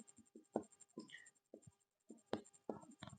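Chalk or a marker writes on a board during a physics lesson on concave mirrors, making short scratchy and tapping strokes in irregular bursts. The strokes are quiet and close, with no speech over them.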